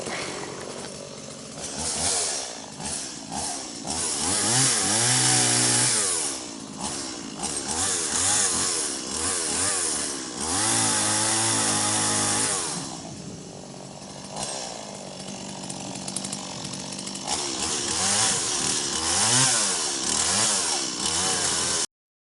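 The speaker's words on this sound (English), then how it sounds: "So now it's time to get out the chainsaw, start whacking stuff up." A loud, close chainsaw revving and bogging down as it cuts wood, engine pitch rising and falling continuously for a long stretch.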